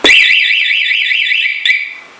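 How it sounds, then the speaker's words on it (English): A loud electronic alarm siren from a Honda VFR motorcycle's alarm system wails close by, its pitch warbling rapidly up and down before cutting off after a couple of seconds. "it is really loud"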